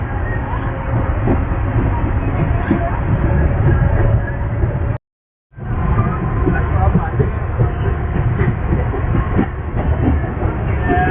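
A MEMU local train runs between Vasai Road and Bhiwandi near Mumbai, a steady loud rumble and rattle heard from inside the coach with one brief cut to silence midway.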